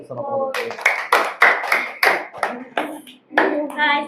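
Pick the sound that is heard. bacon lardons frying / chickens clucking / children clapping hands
children clapping hands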